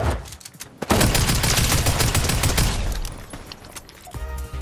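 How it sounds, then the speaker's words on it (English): Sustained loud bursts of rapid automatic gunfire in a Fortnite match, dense and close, easing off toward the end with a few scattered shots. "No, I'm shooting at them."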